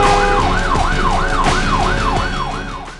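Fire truck siren from the video game Sneaky Sasquatch, a loud, steady wailing tone that sweeps up and down in regular cycles, about one per half second, over a low engine rumble, with no talking.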